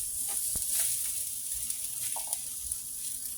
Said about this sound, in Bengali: একদম টকবক করতেছে মাছগুলো